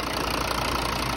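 A Volvo XC70 engine idles steadily after cylinder head gasket and coolant leak repair work, a continuous even rumble with a faint knocking texture, close by and without talk.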